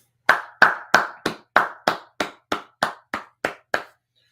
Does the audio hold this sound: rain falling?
no